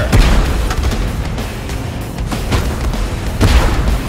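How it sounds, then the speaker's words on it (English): Artillery bombardment in a team battle video game brings repeated booming explosions and rumbling blasts, loud and close, over a constant battlefield din. "We are under bombardment! This is it! Move out of the fire!"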